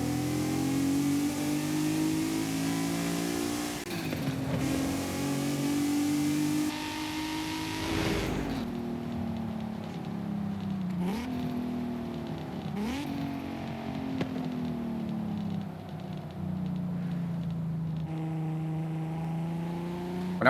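Car accelerating hard in Forza Horizon 5: a loud engine climbing in pitch through several gears, each shift marked by a brief dip before the revs build again, with no talk.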